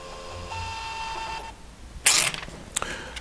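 A VDO 2.2 digital tachograph prints a printout with a steady whirring, buzzing feed. A sharp tearing rasp and a few short clicks follow near the end.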